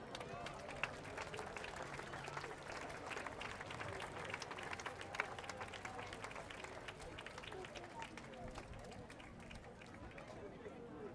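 Steady crowd applause and clapping after a harness race victory at Saignelégier, a continuous outdoor patter with a commentator speaking over it throughout.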